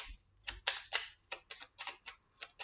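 A deck of tarot cards is shuffled close by in a quiet room, producing about a dozen soft, crisp riffling snaps at an irregular rhythm.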